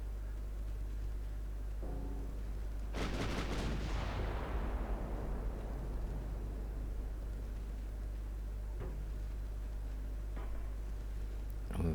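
Heavy naval guns in Ultimate Admiral Dreadnoughts fire a loud booming salvo that rolls out into a long, fading rumble, with fainter distant shots afterward.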